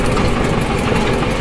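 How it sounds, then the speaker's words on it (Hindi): A Punjab-area tractor that looks like a John Deere idles nearby, its engine producing a loud, steady, dense rumble with no pauses and no voices. "देखना ट्रैक्टर, एक अलग ही ट्रैक्टर है, सरदार भाइयों का है, पंजाब साइड का है"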